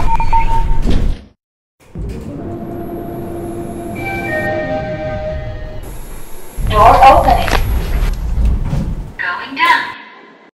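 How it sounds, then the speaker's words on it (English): A Diamond traction elevator door at a hotel rolls shut with a thud and a pause, followed by a steady cab hum with tonal whines. Louder clattering and a recorded voice come near the end. "Door closing."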